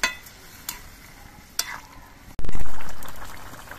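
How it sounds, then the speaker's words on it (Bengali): A few sharp clinks of a utensil against a pot, then a loud burst of bubbling, sizzling liquid as a snakehead (shol) fish curry with fried fish and bitter gourd boils. "ঝোলের মধ্যে মাছগুলো দিয়েও কিছুক্ষণ ফুটিয়ে নিয়েছি"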